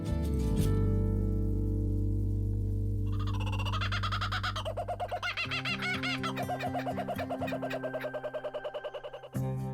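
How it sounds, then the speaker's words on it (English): Scarlet macaws call over the Colombian jungle canopy, a run of harsh, rhythmic squawks that pulse steadily and fairly loud above a sustained tonal backdrop. "Scarlet macaws, hundreds of them, pouring across the treetops in pairs and small family groups."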